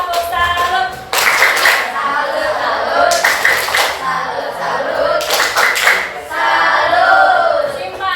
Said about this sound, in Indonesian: Boleh tepuk salut buat kelompok 3. Tepuk salut.